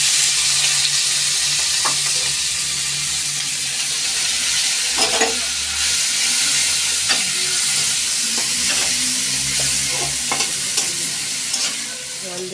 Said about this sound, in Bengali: কালো জিরে ফোড়ন দেওয়ার পরে আমরা পেঁয়াজ কুচিটা দিয়ে নেবো